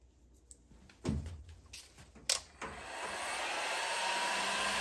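Heat gun blowing steadily on a Ducati DesertX motorcycle fork cartridge clamped in a vise, a rising airy whoosh that builds and holds loud after a few bumps and clunks of handling.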